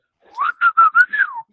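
A person tries to whistle, producing five short breathy whistled notes in a wavering, uneven phrase that ends in a falling slide, close and fairly loud with no talk.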